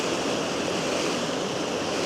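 The lower fall of Grey Mare's Tail waterfall rushes in a steady, dense roar of water that stays constant throughout, with no voices over it.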